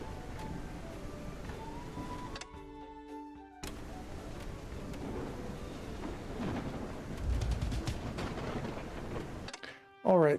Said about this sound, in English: And heavy rain. Delightful.